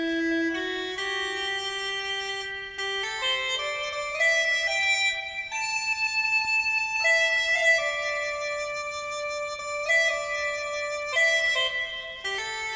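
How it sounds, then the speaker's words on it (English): Soft, breathy Uilleann pipe-like sampled tones, triggered from a guitar, play a slow melody of sustained notes, some gliding between pitches, alone without any voice. "So that's the sound of Ullum pipes"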